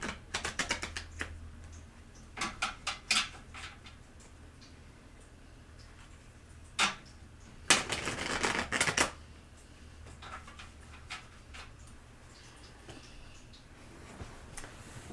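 A deck of tarot cards is shuffled in bursts, giving quick crisp riffling clicks and flutters in a few separate runs with quiet gaps between them, close and fairly soft, with no talk.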